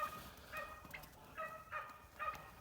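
Turkeys on a farm give a few short gobbling and clucking calls in separate bursts, fairly close and moderately loud, over a low background hum with no talk.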